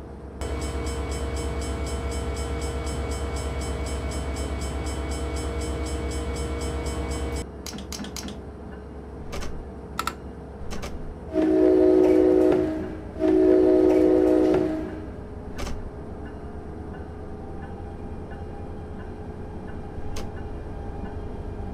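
An ALP-45D locomotive in Train Simulator 2017, on a New Jersey route from Hoboken Terminal to Bay Head, gives a loud, steady engine drone. It then settles into a quieter rumble with scattered clicks and two sustained horn blasts, with no talk.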